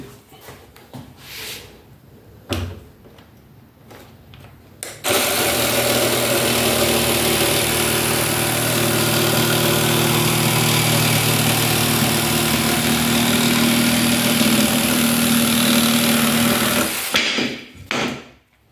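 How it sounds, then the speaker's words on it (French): A Parkside jigsaw starts after a few light knocks and cuts a board about 2 cm thick at speed 6, running steadily for about twelve seconds, a loud continuous buzzing whine, then stops. "On va essayer de couper une plaque de à peu près 2 cm, en vitesse 6"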